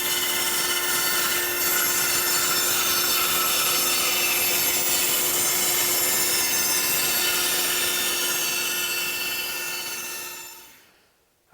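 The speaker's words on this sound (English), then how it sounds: "I'm going to cut that curve out at the bandsaw." A bandsaw cuts a curve in a wooden panel for a king bed footboard, giving a loud, steady, continuous whine that holds for about ten seconds before fading out as the cut ends.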